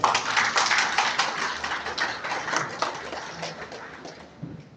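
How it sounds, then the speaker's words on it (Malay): An audience at a Sarawak gathering bursts into applause, a brisk crowd of clapping hands that is loud at first and slowly thins out, with no one speaking over it. "Tepuk tangan semua."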